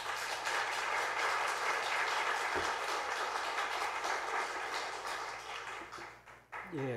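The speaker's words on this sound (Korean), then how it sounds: "목사님 나오실 때 우리 큰 박수로 환영하도록 하겠습니다" Church congregation applauding to welcome a visiting pastor and seminary professor at a Sunday afternoon service, a thick, steady round of clapping that tapers near the end, with a brief voice or noise at the close.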